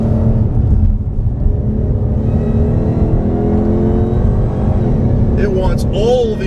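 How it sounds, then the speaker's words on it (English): Hennessey HPE750 supercharged Mustang on a race track, engine droning loud and steady with a rising whine and revving pitch sweeps near the end. "The whine of the supercharger is very intoxicating"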